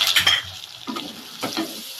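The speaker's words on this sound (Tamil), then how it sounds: "நல்லா வதக்கி விட்டுடலாம்" Onions and tomatoes sautéing in a pan for mutton kola urundai kuzhambu, with close, short scraping stirs over a soft sizzle.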